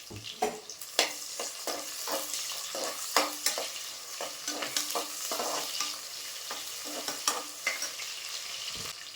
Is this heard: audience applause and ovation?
no